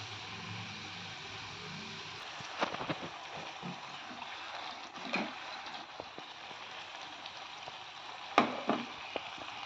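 Egg pitha cakes fry in a pan with a continuous soft sizzle, broken by a few sharper crackles and clinks, and no voices.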